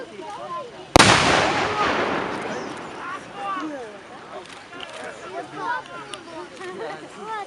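A single sharp, loud blast from a light artillery gun hits early during a battle reenactment, followed by a long rumbling decay and scattered crackling noise in the distance.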